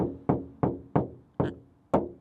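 Five sharp, hollow thuds of a Maxus E-Terro electric pickup truck door shutting, close up and evenly spaced, with a slightly tinny ring.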